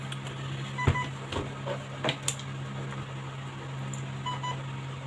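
A CYMA SR25 airsoft gun with a dying battery gives faint pairs of short low-battery beeps repeating over a low steady hum, mixed with a few soft clicks and handling knocks.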